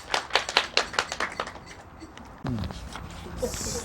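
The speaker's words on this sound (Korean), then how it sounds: "박수로 환영해 주시기 바랍니다." Small audience at a Korean literary talk event clapping in a short burst of distinct claps that fades out, followed by a voice and background noise.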